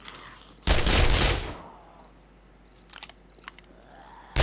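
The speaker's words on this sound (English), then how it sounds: "I must test my SMG out." A submachine gun fired in the survival video game 7 Days To Die, Alpha 21: a loud, sustained burst of rapid shots lasting under a second, then a quieter stretch with a few scattered light clicks and taps.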